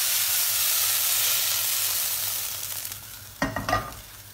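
Paneer frying in a pan of hot oil, a steady loud hiss that slowly eases, then a few quick clattering scrapes and bursts of sizzle near the end as the pieces are moved.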